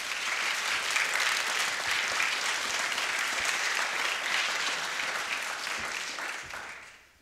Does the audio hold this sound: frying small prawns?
no